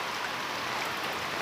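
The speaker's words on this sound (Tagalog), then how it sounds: "Ayan oh, lakas ng ulan." Heavy rain pours down steadily outdoors while pigeon keepers wait for their racing birds to return, a dense, even hiss that holds without pause throughout.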